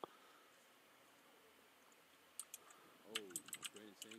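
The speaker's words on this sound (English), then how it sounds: "Here he is typing away, looking something up" Quiet typing on a computer keyboard comes in short clustered clicks near the end, mixed with a faint voice.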